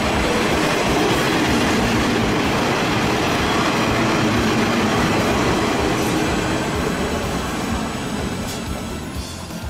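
A train rumbles past a Japanese railway line nearby, loud and continuous, with rhythmic clattering of wheels on rails and faint squealing, easing off slightly at the end.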